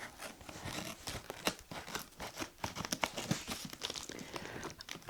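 Cardboard box being opened with scissors at close range, with irregular crinkling, tearing and scraping noises following one another in uneven bursts and no talking.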